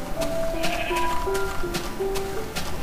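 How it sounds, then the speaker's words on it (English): A brown sheep in a video game bleats in a series of short wavering cries, fairly close and clear over low background noise, with a voice briefly present. "Brown sheep!"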